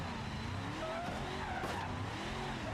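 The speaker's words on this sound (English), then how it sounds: "Still got brake fading. Oh yeah, listen to those brakes." Car brakes squealing in the BeamNG Drive driving game, a loud continuous tire-and-brake screech over engine noise, with a brief sharper burst midway.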